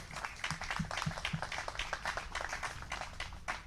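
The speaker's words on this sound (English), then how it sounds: "Please give yourself a round of applause" An audience at a public event, where a family speaks after the death of a Delaney Hall detainee, breaks into steady applause, a dense, continuous patter of many hands heard from some distance and fairly faint.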